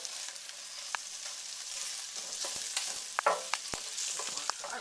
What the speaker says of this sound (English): we're going to let this bacon get crisped up and render its fat off